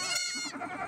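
Baby goats on a farm bleat in a short, loud, close wavering cry that trails off into a lower second call, with no talk.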